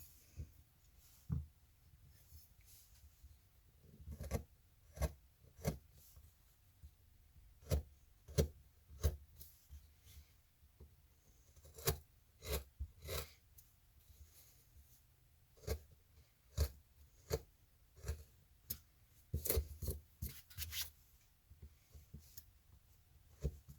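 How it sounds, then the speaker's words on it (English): Gouge cutting around a circular outline in a wood relief carving, giving a quiet, close series of sharp clicks and scraping cuts in irregular bursts, with no talk. "you're going to use the gouge to cut around the circle."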